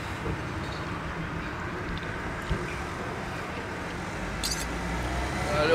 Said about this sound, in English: A little bit noisy with the traffic